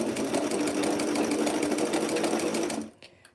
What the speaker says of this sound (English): sewing on a sleeve